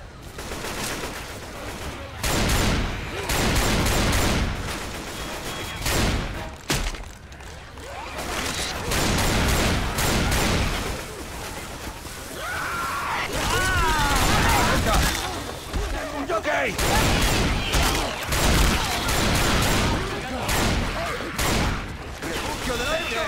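Rapid bursts of gunfire crackle through a Left 4 Dead 2 versus battle, with sharp volleys and brief pauses while voices talk over the shooting.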